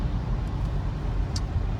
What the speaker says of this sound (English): you can hear from its exhaust already.